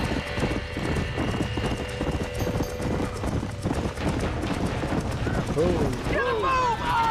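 Horses' hooves clip-clopping rapidly near a burning barn in the Red Dead Redemption video game, with frantic neighing and whinnying rising toward the end, over a dense background of fire and commotion.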